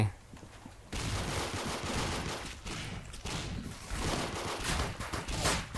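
Gunfire rings out in the Roblox shooter Arsenal after a brief quiet opening, a dense, continuous barrage of rapid shots that stays loud for the rest of the stretch.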